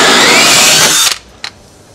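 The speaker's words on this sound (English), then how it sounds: "To finish off, I'm going to use the counterbore and plug." A counterbore drill bit bores loudly into a deck board edge for about a second, a steady high whine that cuts off abruptly, followed by a brief clack and quiet.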